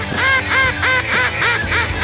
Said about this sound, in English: I'd fool around with trying to make a better duck call more duck-like.